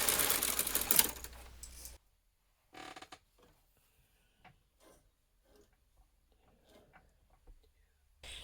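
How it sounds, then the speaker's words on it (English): A knitting machine carriage is passed back to the right with a loud sliding rush, followed by faint scattered clicks and taps. "Push in both part buttons and pass carriage back to the right side."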